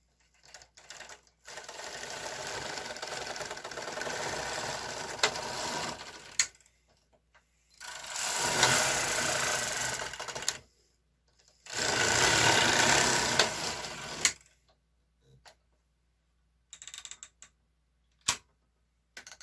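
A Silver Reed SK560 knitting machine knits the main body of a sweater, its carriage whirring and clattering in three long sustained passes separated by pauses, ending with a few short clicks.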